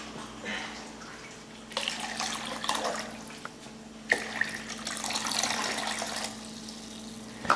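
Bottled water pours and splashes into a container in two bursts, close and fairly soft, against a steady low hum.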